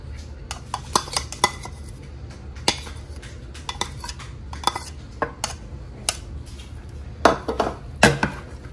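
A utensil scrapes and clinks against a bowl while mixing shrimp cocktail with chopped onion, serrano chiles and cilantro, irregular close taps and knocks spread across the mixing, with a few sharper clatters near the end.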